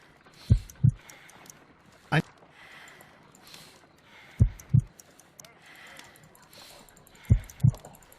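Low heartbeat thuds in the Sherlock Holmes: Crimes and Punishments video game, falling in paired lub-dub beats at slow, uneven intervals over a soft ambient bed, with one isolated thump between the pairs.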